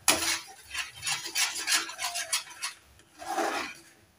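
A spoon scrapes and stirs raw mango pulp cooking with sugar in a pan, producing close, gritty rasping strokes in an uneven rhythm with a brief pause before a final stir.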